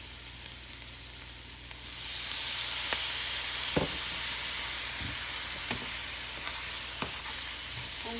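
Gram flour and onion sabji frying with tomatoes going in, a steady hiss of sizzling that swells after a moment, punctuated by occasional spoon knocks and scrapes in the pan.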